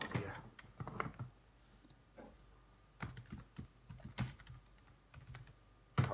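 Bursts of typing on a computer keyboard, quick irregular clusters of key clicks with short pauses between them, fairly close and quiet in an otherwise still room.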